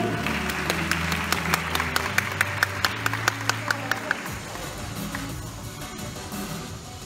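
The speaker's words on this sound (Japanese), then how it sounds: "大きな拍手をお送りください" An audience applauds at a men's fitness model award ceremony at the NPCJ Japan Classic 2020, with crowd clapping under background music and a run of sharp, evenly spaced claps that fades out.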